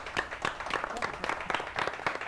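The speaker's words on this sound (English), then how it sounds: "give yourselves a round of applause" An audience applauds a quiz team at a game night, a short burst of close, lively hand clapping with uneven rhythm that stays fairly light throughout.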